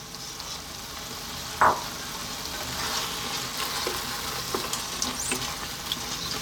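Prawns drop into a hot spiced curry pan with a brief splash, then settle into a steady close sizzle and soft crackle that carries on alone.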